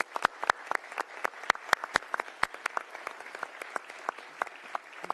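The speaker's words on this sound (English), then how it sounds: "Please give them a round of applause." Audience applause at a religious liberty commission hearing, thanking two witnesses: a steady burst of many hands clapping, crisp and fairly close, with no talk over it across about five seconds.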